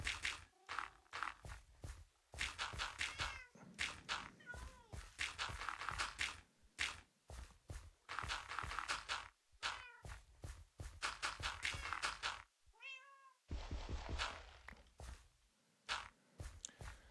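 Cats let out several meows, including a clear rising cry midway, over busy rustling, crunching and footstep-like shuffling close by.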